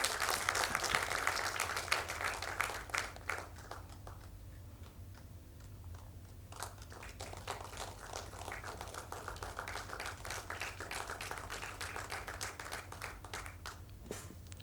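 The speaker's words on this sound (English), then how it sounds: "please give her a round of applause" Audience applause at a public health event launch, a crowd clapping fairly loudly at first, then thinning to sparse, distant claps against low hum.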